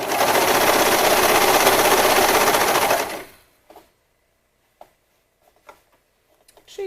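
A sewing machine sews a sports bra along its curves, running steadily and close for about three seconds before stopping, leaving a few faint clicks and small handling noises.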